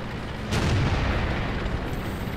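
A tank cannon shot and hit in the World of Tanks game, a single loud boom that swells after a half-second and rumbles out under a dense, noisy battle bed.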